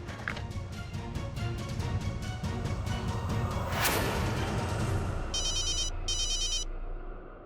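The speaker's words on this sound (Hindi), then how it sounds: "युग, गौरी, आप युग भैया का फोन लगाइए ना।" A telephone rings during a call, a bright electronic ringtone pulsing in repeated bursts, then two clear trilling rings near the end, moderately loud over low background sound.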